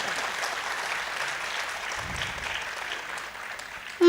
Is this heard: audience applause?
yes